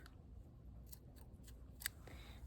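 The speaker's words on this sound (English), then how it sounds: "take your scissors and you want to cut this piece off" Scissors snipping a piece of crochet yarn from a popcorn-stitch purse, a few quiet close clicks and one sharper snip over a faint hush.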